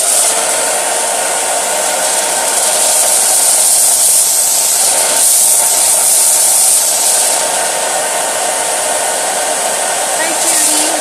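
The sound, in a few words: drying a Chalk Couture transfer with a hair dryer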